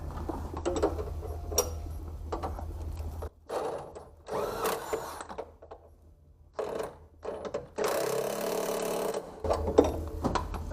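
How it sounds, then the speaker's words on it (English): Wrench tightening a bolt during an LS engine swap on a Fox-body car: a series of short ratcheting clicks and mechanical clatter in irregular bursts, close and moderately loud, separated by quiet gaps. "I can't hold the wrench tight enough"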